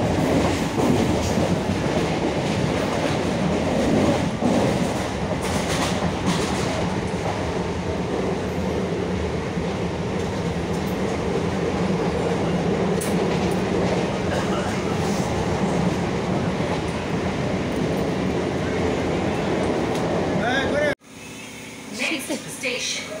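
A local train runs toward Lakshmipur station, giving a loud, steady rumble and rattle of the carriage with voices over it. The sound cuts off briefly near the end, then continues more faintly.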